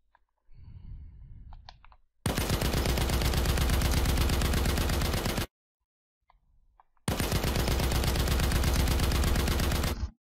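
A machine gun in an Unreal Engine game project fires in two long sustained bursts of rapid, loud shots, separated by a short silence and preceded by a brief softer noise.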